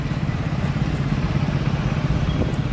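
A motorcycle engine running steadily close by as the bike is taken out and started, a low continuous rumble with slight clatter throughout.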